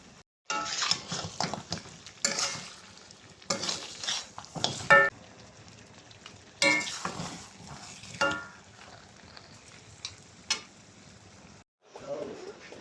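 Onions for a papaya beef curry fry in a pot, with sizzling broken by repeated scraping and stirring strokes and occasional clinks of a utensil against the pot, close and moderately loud, with faint talk at moments.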